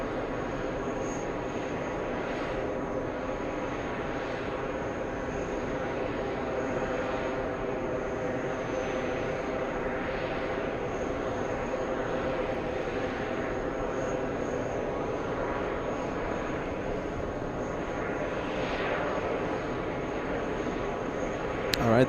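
Steady drone of a Boeing 777 airliner engine at JFK airport, heard from a distance as a continuous roar throughout, with people talking over it.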